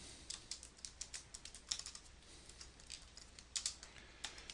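Fingers type on a computer keyboard, a quick irregular run of light clicks and taps close by, fairly quiet with no talking.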